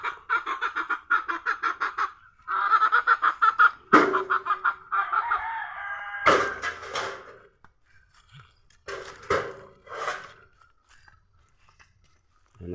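Chickens cluck in short repeated bursts, with a rooster crowing loudly partway through, fairly close by with quiet gaps between calls.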